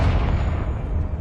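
A Confringo blasting spell explodes in Hogwarts Legacy, a loud, broad rumbling boom that fills the whole moment and fades slowly.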